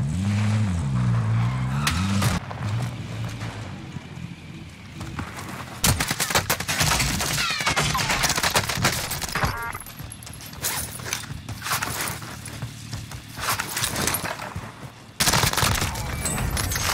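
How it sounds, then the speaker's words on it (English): PPSh-41 submachine gun in Warzone, firing in long rapid bursts amid vehicle and mechanical game noise, with loud bursts starting and stopping across the match. "This PPSH kills so fast."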